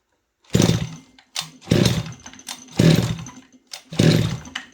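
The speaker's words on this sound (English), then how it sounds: "I'm just gonna give it a pull and see if it starts." Four pull-start attempts on a gas-powered Losi DBXL RC car engine, each a loud rasping cough of the recoil starter turning the engine over, roughly one per second, with no catch or idle between pulls.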